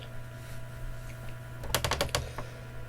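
A short burst of typing on a Brother WP-680 word processor typewriter, a quick run of sharp clacking keystrokes over a steady electrical hum, close by.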